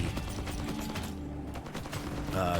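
Rapid SMG fire in the zombie survival game FatalZone, a dense continuous stream of shots with mechanical clatter, steady and fairly quiet throughout.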